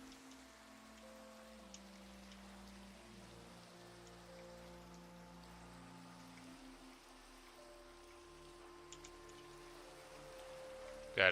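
Steady rain patters softly in Minecraft over a low ambient hum, with a few faint tones drifting underneath, even and unbroken throughout.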